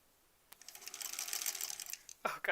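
A sewing machine stitches a quilt block seam in a short rapid whirring run of about a second and a half after a click, then a voice speaks briefly.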